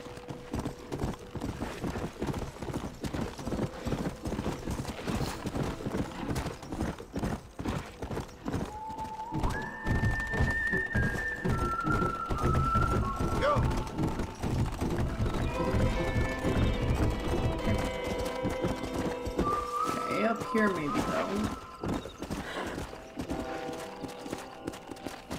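In the video game Red Dead Redemption, a horse's hooves clip-clop in a steady, rapid rhythm across rough ground, with several high whinnies rising over the hoofbeats along the way.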